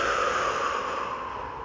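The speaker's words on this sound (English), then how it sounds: "Let's take 3 breaths." One long, steady breath drawn in or let out through the nose during a strong yoga flow, airy and close, fading gradually toward the end.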